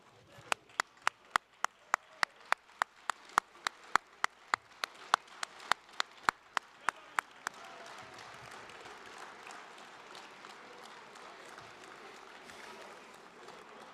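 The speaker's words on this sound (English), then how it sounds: "I'd like for you guys to all stand up and be able to give a round of applause to your team" Clapping at a university student-athlete awards ceremony: a few sharp, evenly spaced claps at first, then a full round of applause from the standing audience swells into a sustained, dense patter with no voices over it.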